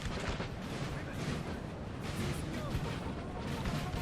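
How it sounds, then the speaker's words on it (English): Artillery booms in a Napoleonic-era battle from Napoleon: Total War, as a dense, continuous rumble of cannon fire and battle noise with no clear gaps, loud and enveloping. "Where's that artillery shooting?"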